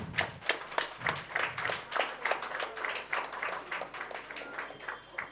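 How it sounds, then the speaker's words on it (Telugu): An audience at an apartment-community children's festival claps to welcome a guest, a lively burst of many hands with uneven, overlapping slaps that rise and fall, close and fairly loud, with faint voices mixed in. "సార్కి ఒకసారి గట్టిగా క్లాప్ చేస్తూ వెల్కమ్ చేద్దాం."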